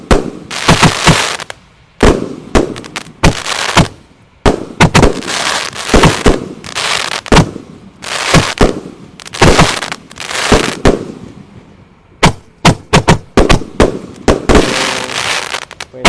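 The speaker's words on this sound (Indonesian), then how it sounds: "Jadi ini mercon romaine candle penutupnya tadi sudah menyala semuanya ya." Roman candle fireworks set off on a night celebrating the start of Ramadan fire a rapid, irregular series of loud bangs and crackling bursts with brief pauses between volleys.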